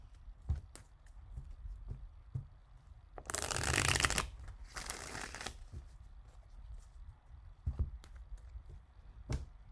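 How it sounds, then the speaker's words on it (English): Two crisp bursts of tarot cards being riffle-shuffled, with soft taps and handling sounds before and after, close and quiet. "One more shuffle."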